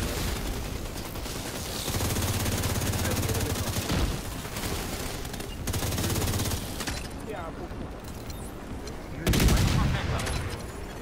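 Video game gunfire during a squad focus-firing on a rogue stinger hive, a dense, loud run of rapid shots and blasts that swells and fades, with someone talking over it.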